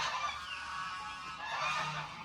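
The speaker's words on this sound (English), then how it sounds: "Those geese are very, very distracting right now." Geese honk outdoors on a farm, a faint, distant chorus of overlapping calls carrying steadily through a soft background hiss.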